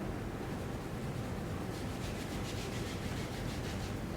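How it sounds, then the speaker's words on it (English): Kinesio tape being rubbed down onto a wrist over the ulnar styloid, giving a steady, close, continuous rubbing and brushing hiss that runs evenly throughout, with no talking. "And then I rub this tape down."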